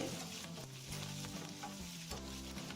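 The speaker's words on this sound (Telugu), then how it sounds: "కరివేపాకు పచ్చిమిరపకాయలు కాస్త ఎండిమిరపకాయలు ఇవండి తీసుకున్నాను ఇవన్నీ వేసుకుంటున్నాను" Curry leaves with green and dried chillies frying in oil for mango pulihora, a continuous bright sizzle with occasional spatula scrapes, close and steady.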